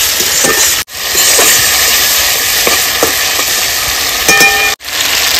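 Mutton coated in cumin and dried red chilli paste sizzles loudly in a pan, a constant hiss with scattered scraping stirs and two brief dropouts.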